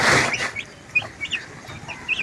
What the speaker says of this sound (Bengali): এই যে দেখুন, মুরগিকে খাবার দিচ্ছি